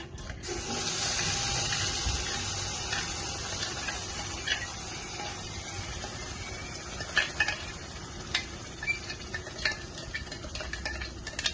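Tomato chutney goes into a hot pan and sizzles steadily at moderate volume while a spoon stirs it. Toward the end come scattered scraping clicks against the pan.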